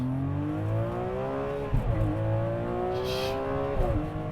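Ferrari 599 with a V12 engine accelerating hard up a highway on-ramp, loud and close from inside, revs climbing in long pulls that break twice at quick gear shifts before rising again.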